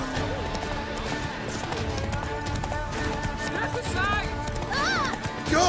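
Horse hooves clip-clopping at a gallop in Witcher 3, a steady drumming running through game music and ambience, with occasional whinny-like cries near the end and shouting voices over the ride.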